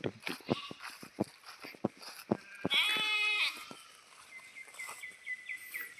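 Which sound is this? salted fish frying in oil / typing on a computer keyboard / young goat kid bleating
young goat kid bleating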